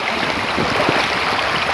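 Water rushes along a stream at a swimming spot, a dense and steady wash of flowing noise that is fairly loud and close, with no voices.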